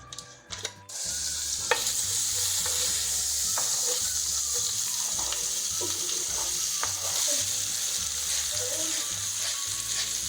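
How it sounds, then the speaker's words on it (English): Olive oil and a tablespoon of butter sizzling in a pan, a loud steady hiss that runs almost the whole time, with occasional small pops and clicks, close and without talk. "To the pan, we add a little bit of olive oil, or oil of your choice."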